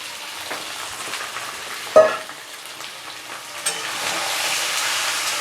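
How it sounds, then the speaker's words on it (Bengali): Turmeric-coated chicken pieces fry in a pan of oil with onions and whole spices, making a close, steady sizzle with a sharp clatter of stirring midway and a brief later knock. "চিকেনটা একটু ভেজে নিয়েছি"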